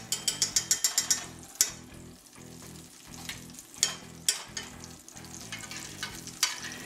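Country ham frying in a pan of canola oil and bacon grease gives a loud, close, continuous sizzle, opening with a quick run of rhythmic clicks and followed by occasional clunks of the pan or utensil, with no talking.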